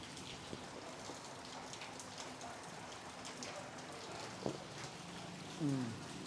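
Steady rain falls outside a warung in Sanur, Bali, a continuous soft patter on surfaces heard close and even throughout, with a brief clatter and a short tonal squeak near the end.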